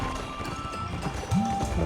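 Horse hooves clip-clopping steadily as a character rides a horse in the Revelation Online fantasy MMO, a continuous quick rhythm of footfalls under game music with a soft whinny-like tone near the end.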